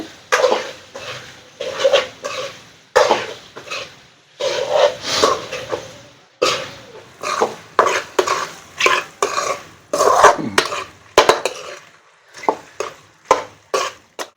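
Goat lung pieces are mixed in a pan for a village-style fry, giving repeated rhythmic scraping and clattering of a spoon against the metal pan with a light sizzle underneath.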